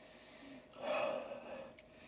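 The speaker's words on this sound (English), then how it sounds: "let me do the quick sniff." A person gives a single quick, close sniff of an S.H. Figuarts Wolverine action figure, a short breathy rush of air against a quiet background.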